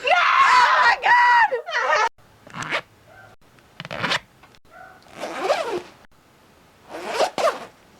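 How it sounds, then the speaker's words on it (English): A clothing zipper is zipped in several quick bursts, including a long high rasp, with short zips repeating between pauses. Brief voices and a scream come in under and between the zips. "Which is faster? Zip in or button in?"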